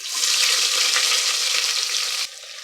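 Onions and spices frying in ghee and oil for a chicken pulao, a loud, dense sizzle with stirring scrapes that drops slightly near the end.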